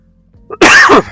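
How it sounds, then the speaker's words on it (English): A single harsh cough, close and loud, preceded by a short intake of breath, then quiet. "Sorry about the coughing today."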